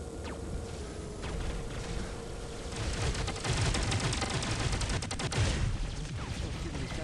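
Robot weapons fire in the War Robots game: dense rapid bursts of gunfire layered with mechanical clatter and whooshes, continuous and fairly loud throughout.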